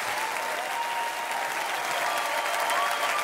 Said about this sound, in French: On peut l'applaudir très fort, mesdames et messieurs